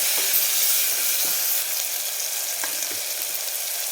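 Tomatoes sauté in oil in a pan for a mutton curry, giving a close, continuous sizzle and hiss with faint stirring clicks throughout.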